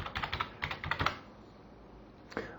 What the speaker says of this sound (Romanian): dacă aș încerca să scriu ceva de la tastatură, am uitat, merge